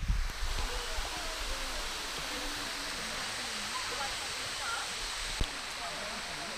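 Cedar Creek Falls pours in a steady, broad rushing roar of falling water, constant and moderately distant, with a faint bird call drifting over it.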